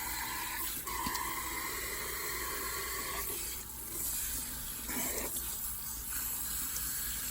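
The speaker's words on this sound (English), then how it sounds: "Now I want you to pay close attention to the water when I go to rinse this." Tap water runs into a sink as hair extensions are rinsed, a steady close hiss and splash with shifting tone as the hair moves through the stream.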